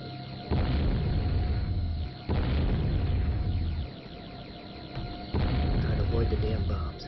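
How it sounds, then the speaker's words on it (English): Bombs go off in the Killer Raceway video game as three big, loud, booming bursts, each followed by a sustained roar that then fades, with electronic game tones running underneath. "The damn bombs."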